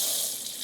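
Cold tap water runs steadily from a kitchen faucet while a hard-boiled egg is peeled beneath it, a close, continuous hissing splash with no voices.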